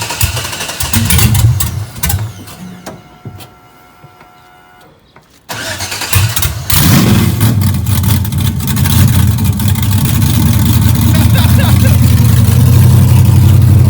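Loud engine of an LS-swapped 1970 Chevy Nova, running and revving up close, with a steady low rumble that climbs after a brief quieter gap; people talk over it.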